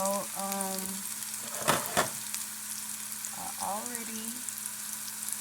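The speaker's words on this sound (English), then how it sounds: "I already been cooking my green beans" Green beans frying in a pan, a constant sizzle with a couple of sharper stirring clatters, while a voice speaks over the cooking.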